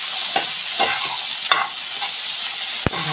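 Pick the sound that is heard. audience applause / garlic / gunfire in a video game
garlic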